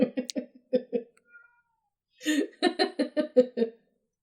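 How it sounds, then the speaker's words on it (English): A friendly cat meows in a rapid series of short, chirpy calls, pauses, then gives another quick run of meows, close and fairly quiet. "that is a friendly kitty cat that you hear"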